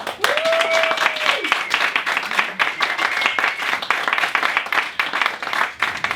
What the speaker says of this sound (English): Will you please give a big round of applause for Damien Atkins.